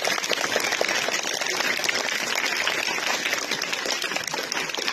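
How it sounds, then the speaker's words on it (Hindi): Schoolchildren at a boys' elementary school clap together in a dense, continuous burst of applause that stays loud and even throughout. "तालियां बजाओ"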